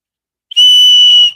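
A small keychain whistle, attached to a keychain light, gives one loud, steady shrill blast of under a second, alone and close.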